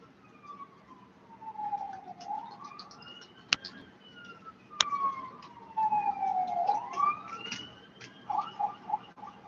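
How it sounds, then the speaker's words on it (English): Emergency vehicle sirens wail through a busy city street, rising and falling sweeps at a moderate distance with a few sharp clacks and bursts of traffic noise underneath. "Construction everywhere, emergency vehicles, cops, ambulances, whatever."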